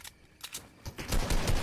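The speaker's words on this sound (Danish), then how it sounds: "Åh, de skyder." Gunfire in a Fortnite match, a short burst of rapid shots that grows louder and denser toward the end, sharp cracks near the listener.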